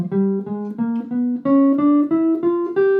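A diminished scale on jazz guitar played slowly, about eight distinct plucked notes stepping upward at an even, unhurried pace, each ringing briefly before the next, with no other sound.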